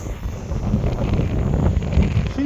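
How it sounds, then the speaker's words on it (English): Strong wind buffets the microphone with a loud, rumbling roar that gusts steadily throughout, outdoors in marshlands near open water. "it's very windy now"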